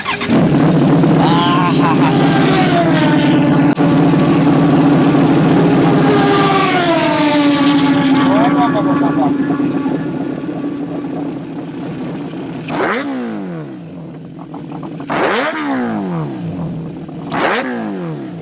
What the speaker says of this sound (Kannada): ಸೊ ಬನ್ನಿ ಎಕ್ಸಾಸ್ಟ್ ನೋಡಿ ಕೇಳಿಸ್ಕೊಬೋಣ.